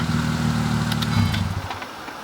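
A Mercedes-Benz engine runs on throttle with a steady low harmonic drone, close and loud, settling down near the end.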